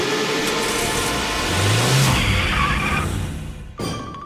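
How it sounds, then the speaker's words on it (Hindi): Animated cartoon car engine starting and pulling away, a revving roar that swells in the middle and then fades off, with a short separate noise near the end. "मैं गाड़ी निकालता हूँ।"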